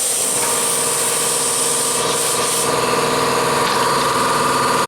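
An air compressor runs loud and steady nearby, a continuous mechanical drone with a faint hiss layered over it.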